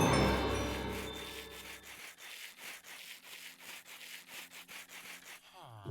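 Sandpaper polishes rose quartz in a modded Minecraft playthrough, heard as a quick rhythmic series of scraping rasps that repeat steadily and close up, after a brief louder opening.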